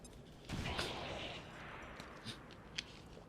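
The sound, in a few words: grenade thrown at enemy troopers in the video game XCOM 2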